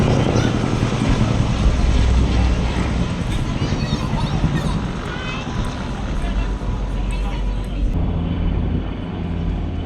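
A Cessna 210 propeller plane drones steadily overhead during wildfire water bombing near Elgin, South Africa, its engine hum filling the scene alongside a constant wash of background noise and distant voices.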